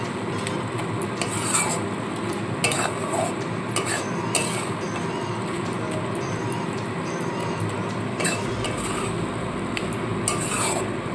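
Fish roe bhuna with chopped coriander stirred in a pan, a steady close scraping and rubbing of spatula on metal over a continuous sizzle, with no talk.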